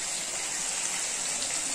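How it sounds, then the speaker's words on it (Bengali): A little water poured into a cooking pan, a steady, even gushing hiss that runs without a break for under two seconds. "সামান্য জল দিচ্ছি"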